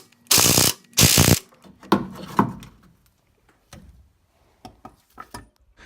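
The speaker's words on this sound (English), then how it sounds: "I'm using a 2-foot breaker bar to start the process, and then use my impact gun to finish removing the bolts" Wrenching on axle shock bolts with a 2-foot breaker bar and impact gun during an axle swap: two loud, dense mechanical bursts up front, then scattered clanks and metallic knocks fading into quieter taps.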